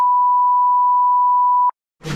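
A single steady censor bleep tone cuts in loud and clean for about a second and a half, then stops abruptly, followed by a short burst of rough noise.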